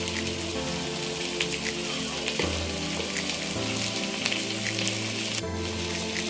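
Marinated goat head meat with turmeric frying in a pan, a loud, dense, crackling sizzle that runs close and unbroken, with a few bursts of spattering and no voices.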